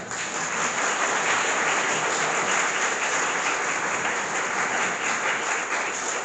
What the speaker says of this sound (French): Il est donc recommandé d'applaudir.